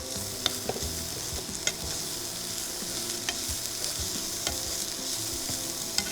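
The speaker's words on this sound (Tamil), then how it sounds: "நம்ம பொடியாக கட் பண்ணி வச்சுருக்கிற கருவேப்பிலையை அதில் போட்டுக்கலாம்" Finely chopped curry leaves crackle and sizzle in hot oil in a pan, with a steady broadband hiss and scattered sharp pops and spoon taps against the pan, close and moderately loud with no talking.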